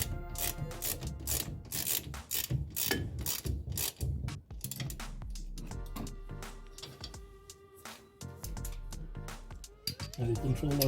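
Ratchet wrench with a 17 mm socket cranking a bolt during a car disc brake conversion, rapid close pawl clicking in bursts with pauses, faint talk in between.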